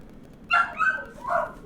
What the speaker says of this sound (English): we got a puppy in there.